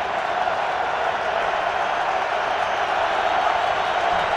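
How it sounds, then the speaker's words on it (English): Loud Baltimore stadium crowd at an NFL football game between the Indianapolis Colts and Baltimore Ravens, a steady roaring wash of voices held at constant volume from start to finish. "Once again, the very vocal Baltimore crowd."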